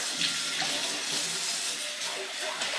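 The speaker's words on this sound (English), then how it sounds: "I always rinse my cans out afterwards" Tap water runs steadily into an empty tomato can being rinsed out, a continuous close hissing splash with no talk over it.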